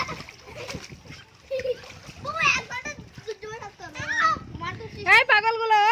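Children splash in a swimming pool, with bursts of water slapping and sloshing throughout, mixed with lively kids' voices and someone talking nearby over the play.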